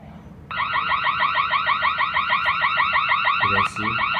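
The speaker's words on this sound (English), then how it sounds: "now we'll trigger the door center to make alarm" A G90B burglar alarm siren, set off by a door sensor, blares a loud, steady rapidly warbling electronic tone for about three seconds, briefly dipping near the end before resuming, with no talking.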